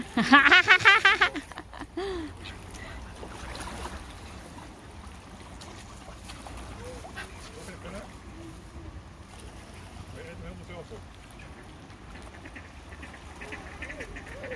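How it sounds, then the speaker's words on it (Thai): Ducks quack as they are fed bread by the water. A loud burst of close quacking comes first, then softer background noise with people talking. "เอาขนมปังให้เป็ดพร้อมกินพร้อมพี่น้องจ้า"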